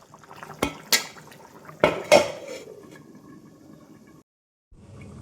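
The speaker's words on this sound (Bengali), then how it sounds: "এবার আমি জোর কমিয়ে আর চাপা দিয়ে দেবো।" A metal lid clanging onto a cooking pot of mutton: several sharp clinks and clatters in the first few seconds, then a faint bubbling simmer that fades out.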